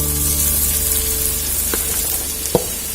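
Okra (vendakkai) frying in hot oil, a steady broadband sizzle throughout with a couple of sharp utensil clicks near the end, close and even, no voices.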